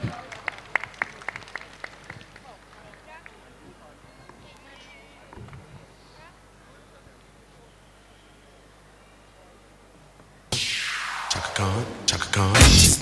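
Applause and cheering break out from an audience at a children's dance performance, starting loud and broadband partway through after a stretch of quieter crowd murmur and talk, and building toward the end.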